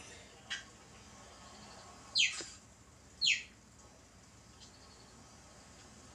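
Cheetah chirping: a few short, high, bird-like chirps, two of them clearly distinct, about a second apart, faint against a quiet background hiss and with no talking.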